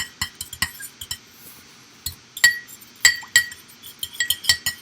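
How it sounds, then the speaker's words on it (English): A knife clinks sharply and repeatedly against a glass bowl while garlic butter is stirred, irregular bright taps close to the listener with quiet gaps between clusters. "Go ahead and stir it. You can use a spoon, but I'm just using a knife"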